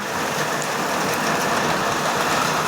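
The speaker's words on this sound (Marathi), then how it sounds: "जोराने पाऊस चालू आहे" Heavy rain pours steadily during an April storm in Manur, a dense, unbroken hiss of downpour that stays loud and even throughout, with no voices.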